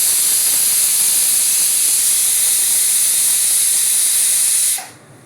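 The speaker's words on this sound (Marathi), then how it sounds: "हे बघा, आता एक शिटी होते आहे." A pressure cooker on a gas stove, cooking spicy sprouted moth bean curry (matki usal), lets off a loud, steady hissing steam whistle that holds for several seconds, then cuts off abruptly, leaving quiet.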